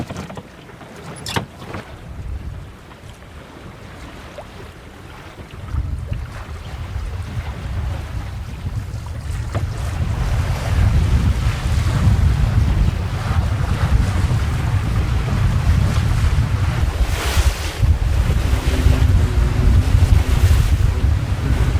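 Wind gusts building over open sea aboard a small trailer sailer, a loud, steadily rising rush of wind mixed with water splashing against the hull and rigging noise.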